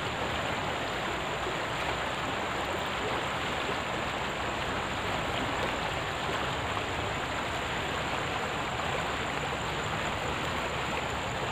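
Water rushes in a steady, dense wash, constant and fairly loud with no pauses or talk.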